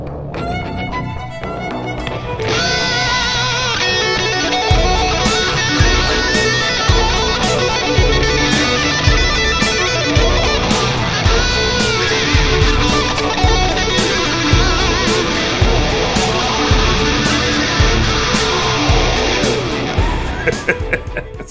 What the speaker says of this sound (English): what we decided to do was cover that up with the worst guitar solo ever